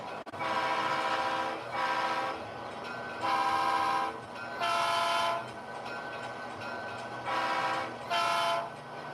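Model trains running on a home layout, a steady rumbling run punctuated by repeated tonal horn toots in several bursts, close and fairly loud, with no talk.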